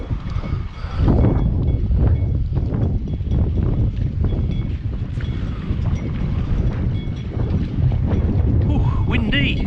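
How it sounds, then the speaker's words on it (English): Strong, gusty wind buffets the microphone near Malta harbour, a steady loud rumble throughout with people talking faintly underneath. "Ooh, windy."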